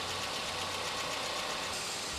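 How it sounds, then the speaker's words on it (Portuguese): A car engine idles on gasoline while warming up, in a vehicle also fitted for methane gas: a steady, even mid-pitched rumble with a faint rhythmic knock, close and unbroken throughout. "Ligue o motor com a chave seletora comutada para a gasolina e aguarde seu aquecimento"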